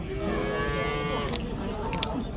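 Cattle low in a long, drawn-out moo at a busy livestock market in Kyzylorda, close and clear above a murmur of crowd noise.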